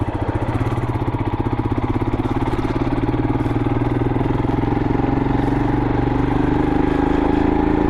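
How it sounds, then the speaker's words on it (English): A Royal Enfield Himalayan motorcycle fitted with a new chain and sprocket runs close by, its engine thumping in a fast, even rhythm like a steady idle, with no talk over it. "It's running like a dream, this bike is."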